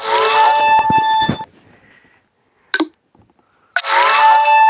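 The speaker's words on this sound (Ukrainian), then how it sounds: "І сповіщення вже проходять." Phone notification chimes sound on a low-battery phone during a Volkswagen LT 35 bus-simulator session: a bright burst of ringing dings, a short click, then another burst of chimes. The chimes are loud and close, with no talk over them.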